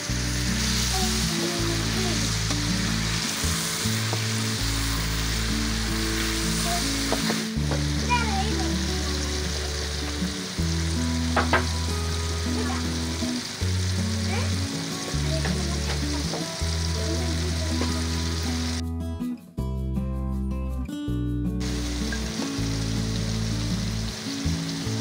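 Tamarind paste sizzles in a hot pan with dates while being cooked into a pickle, a loud continuous frying hiss with stirring scrapes and knocks from a spatula, and a voice talking in the background.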